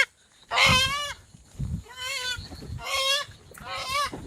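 Native desi chicken calling loudly at night in a jute field, four strong wavering squawks in separate bursts over soft background noise.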